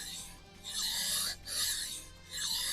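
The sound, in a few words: knife being sharpened on a sharpening stone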